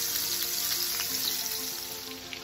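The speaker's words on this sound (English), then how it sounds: "all of my chicken have been added to the pot, and it's just here frying away" Chicken pieces fry in a pot with a steady, dense, hissing sizzle that continues unbroken and sits close and even throughout.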